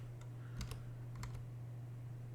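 A short burst of close, quiet typing on a computer keyboard as a Linux package search command is entered: a few quick clustered key clicks over a steady low electrical hum.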